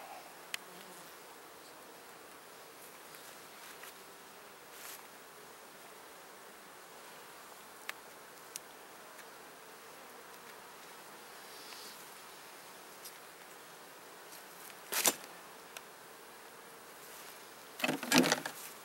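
Honeybees from a swarmed hive being split into two, a continuous soft drone of many insects buzzing around, with occasional sharper rustles and knocks from hive handling.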